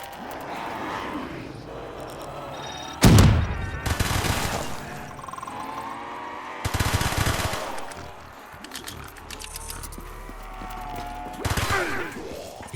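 Area 51 Zombies game gunfire arrives in loud, dense bursts of rapid automatic shots in three separate volleys, with quieter game sounds and some talking between them.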